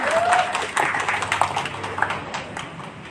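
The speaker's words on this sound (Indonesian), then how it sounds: "Kita berikan tepuk tangan yang meriah dulu." Applause from guests at an official signing ceremony for a cooperation agreement between NTB Mall and PT Pos Indonesia, a scattered moderate clapping that thins out over about three seconds, with a faint tone at the start.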